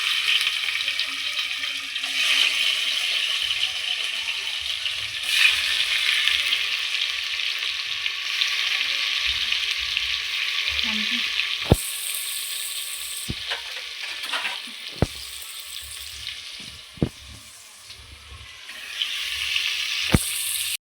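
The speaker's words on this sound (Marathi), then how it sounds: "तेल टाकलंय कढईत आणि आता कांदा टाकणार आहे" Chopped onion sizzles and crackles steadily in hot oil in a wok, with occasional sharp clinks of a utensil stirring against metal; no talking.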